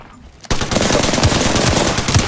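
Sustained automatic gunfire erupts abruptly in a video game, a loud, rapid stream of shots that keeps going without pause to the end, with a brief quiet moment before it starts.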